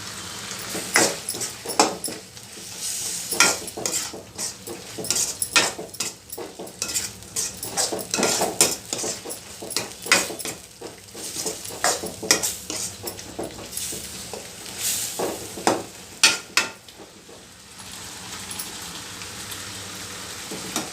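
A spoon scrapes and clinks repeatedly against a pan while chilli fry is stirred and dried out over the heat, with irregular metallic taps and a faint sizzle underneath.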